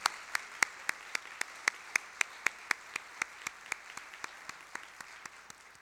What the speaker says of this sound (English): Please give a round of applause for all of this year's outstanding winners.